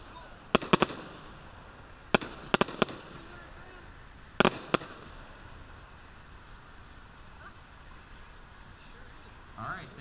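A Pretty in Pink consumer firework cake fires at an outdoor demo, a handful of sharp distant cracks and pops spread over several seconds against a steady wind-like background hiss.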